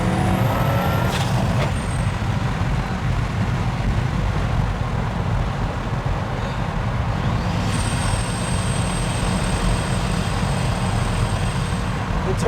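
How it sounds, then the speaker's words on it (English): Heard from inside a Pagani Huayra carbon fiber supercar, a dense engine roar fills the cabin. A thin, high turbo whistle rises early and returns later as a sustained whine, all loud and continuous. "the turbo noises just make it so much better"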